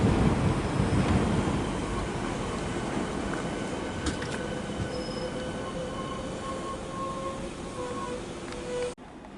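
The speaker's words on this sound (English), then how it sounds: "The DLR service is departing to my right." A DLR light rail train pulls away in Greenwich, London, with steady rumble and rising wheel squeal and whining motor tones, loud and close throughout.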